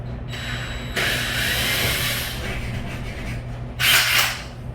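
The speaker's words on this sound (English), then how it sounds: "If you're drilling into sheetrock, you can reduce the mess." Drill boring into a sheetrock wall, a sustained grinding buzz lasting several seconds, near and fairly loud, with a brighter burst of bit noise toward the end.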